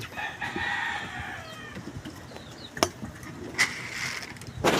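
Chickens at an afternoon feeding in Malolos during a typhoon: soft clucking and a drawn-out rooster crow, faint and somewhat distant, with scattered knocks and rustles in the background.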